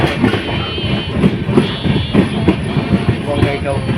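A train pulls into Bongaigaon railway station with rhythmic clicking wheels and rumbling carriages, loud and close, continuing steadily throughout.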